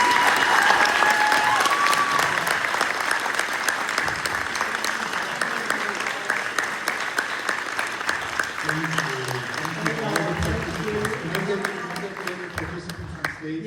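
An audience at a political debate between Missouri State Democrats and TPUSA breaks into sustained applause, a dense, loud wash of clapping that slowly thins toward the end while voices talk over it.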